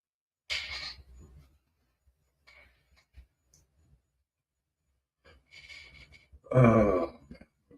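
A single deep, drawn-out burp from a person, loud and close near the end, after a stretch of quiet breathing and faint mouth sounds.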